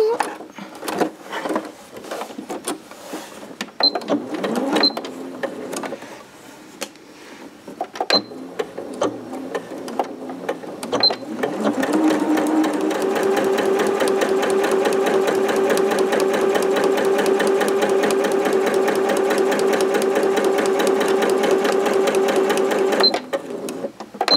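A sewing machine stitches a fabric tote bag with black thread, a steady continuous whir running alone for about twelve seconds after earlier intermittent handling sounds and brief speech.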